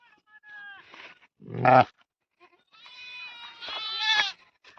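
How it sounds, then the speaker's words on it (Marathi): A sheep on a farm in a Maharashtra village bleats several times at close range, with one loud, harsh cry standing out among fainter wavering bleats separated by quiet gaps. "मित्रांनो याच्यात मेंढी माग का पळायला लागली"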